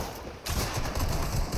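Gunfire in the video game Fortnite, a dense rattling burst of rapid shots that starts abruptly and stays loud and continuous.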